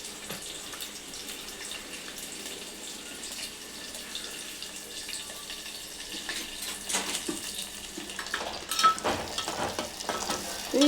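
Chopped onions and green chillies fry in a pan for an aloo masala curry, giving a soft, steady sizzle with a few louder clatters and stirring knocks near the end.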